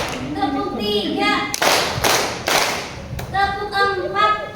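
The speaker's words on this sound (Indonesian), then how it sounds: "Tepuk satu, tepuk dua," A workshop audience claps together in a short rhythmic pattern, a few bursts of massed hand claps falling between stretches of a presenter's voice speaking over a microphone.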